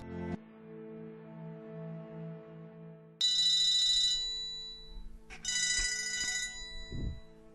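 A telephone rings loudly in repeated bursts, a steady electronic trill that stops and starts again over a low background hum.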